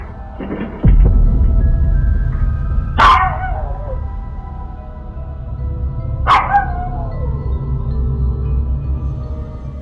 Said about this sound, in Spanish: al cabo de un rato reacciona y empieza a ladrar intensamente, mirando exactamente al mismo sitio